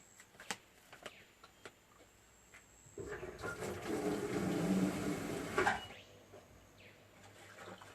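In a laundry, water sloshes and pours as a bucket holding leftover hash is rinsed out, a steady rushing wash of a few seconds preceded and followed by faint clicks and handling sounds.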